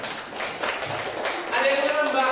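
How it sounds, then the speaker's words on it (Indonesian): A school class claps hands in a chemistry lesson on electrolyte solutions, scattered claps that build into fuller, louder clapping in the second half, with some voices mixed in. "beri tepuk tangan untuk Nabila."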